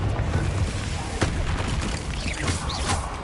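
A Confringo fire spell blasts in Hogwarts Legacy, a loud booming burst over a rumbling low background with a few sharp cracks, while people chat over it.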